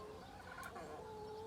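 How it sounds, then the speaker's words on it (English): Chickens near a pond on an agroecology farm, clucking and crooning softly at a distance in a brief, quiet stretch of outdoor sound. "There's 8 chickens over there."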